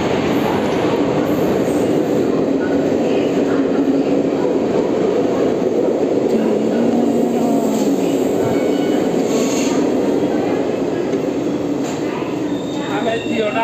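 A train at platform 3 of Bhubaneswar Junction railway station in Odisha gives a loud, steady rumble that runs unbroken throughout, with faint voices mixed into the platform noise.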